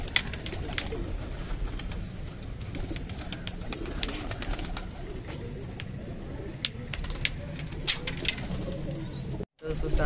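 Pigeons coo and flutter steadily at close range, a dense murmuring flock with occasional wing claps and shuffling throughout.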